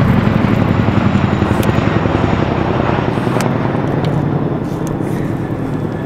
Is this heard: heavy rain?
no